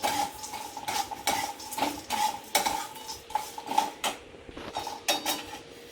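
Peanuts, roasted chickpeas and sesame seeds are dry-roasted in a pan while a spoon stirs them. The spoon scrapes and clinks against the pan in repeated, rhythmic strokes, close and moderately loud, with a faint sizzle underneath.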